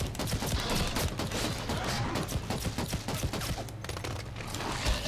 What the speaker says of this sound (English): Took a whole mag to bring him down from the pistol.